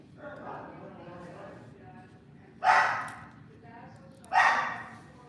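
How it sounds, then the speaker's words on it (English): A dog barks twice in the background, two sharp loud yaps about two seconds apart, while a person talks quietly during a coin-sorting session at home. "you hear my dog barking in the background"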